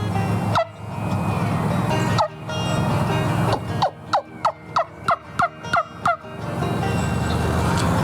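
A homemade wingbone call built from a Thanksgiving turkey's bone gives sharp, high yelping clucks: a couple of single notes, then a quick series of about a dozen rhythmic yelps over outdoor background noise.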